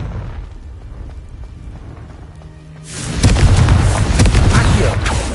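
The Confringo blasting spell detonates in Hogwarts Legacy: after a few quiet seconds of low background sound, a sudden loud explosion erupts and rolls on as a dense, crackling roar until the end.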